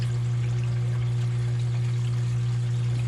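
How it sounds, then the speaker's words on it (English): Water trickles and pours down a reef tank drain pipe with a soft continuous rush, sitting over the loud steady hum of a mag drive pump. "Now I've got some water noise coming down the drain pipe"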